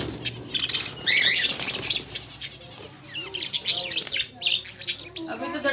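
Several pet birds kept at home, including parrots, pigeons and hens, chirp and tweet in overlapping bursts with some wing flapping, fairly close and busy throughout, with faint talk underneath.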